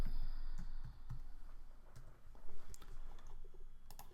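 Scattered key presses and mouse clicks on a computer keyboard, light irregular taps at close range over a faint steady hum, with no voices.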